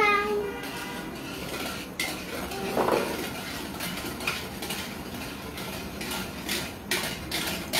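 Pudding stirred in a pot by a child helper, with a spoon scraping and clinking against metal through a busy kitchen hiss, while people talk quietly in the background.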